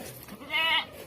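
A goat being cared for gives a single short, nasal bleat near the middle, fairly close and clear above quiet background.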